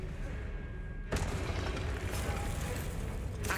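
An Expelliarmus spell is cast in Hogwarts Legacy, landing as a sudden sharp blast that hangs on as a dense, roaring wash, and a second burst hits near the end.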